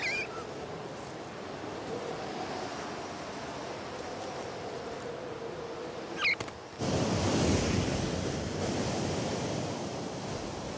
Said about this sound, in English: Down at sea level, the cold fronts bring gale-force winds, great for surfers, but treacherous for almost anything else.